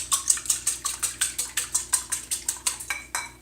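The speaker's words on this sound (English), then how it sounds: "Okay, and you're just whisking it." Eggs whisked for cinnamon sugar matzo brei, a whisk clicking against a bowl in about a dozen rapid, evenly spaced strokes, close and steady with no talking.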